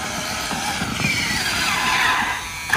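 A Traxxas X-Maxx RC car fitted with a Hobbywing Max6 motor drives past, giving a brief, loud, high-pitched electric whine with broadband road noise for a few seconds and no talking.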